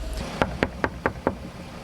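Five firm knocks on a door come in a steady, evenly spaced rhythm, close and clear over quiet background noise.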